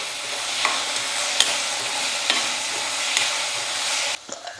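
Chopped onions and tomato sautéing in a pan, a steady sizzle with several sharp clinks and scrapes of a spoon stirring, close and without talk, ending with a quieter pause.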